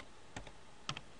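Keystrokes on a computer keyboard while entering a Cisco router command: two short bursts of clicky taps, a couple of keys each, close and fairly quiet against a low background hiss.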